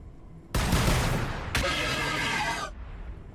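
Heavy gunfire erupts in the Warhammer 40K: Battlesector video game, a loud dense burst of shots followed by a second sharp onset and a sustained roaring volley that cuts off abruptly, no voices.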